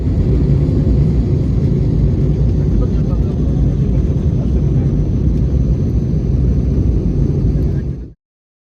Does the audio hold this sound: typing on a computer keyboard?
no